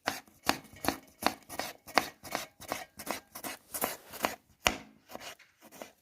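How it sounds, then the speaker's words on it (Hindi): A knife chops tomatoes on a board, with about a dozen crisp, evenly spaced cuts heard close up and no talking. "टमाटर को हम ब्रिक ब्रिक काट लेंगे"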